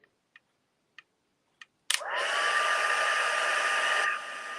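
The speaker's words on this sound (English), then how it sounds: "So I've turned on my my heat tool" An embossing heat tool switches on at its high speed setting after a few sharp clicks, then blows a steady, loud whirring roar that drops slightly in level near the end, with no talking.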